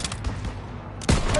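Gunfire in Call of Duty: WWII, a rapid volley of close shots and bursts over battlefield noise, with a fresh loud salvo near the end.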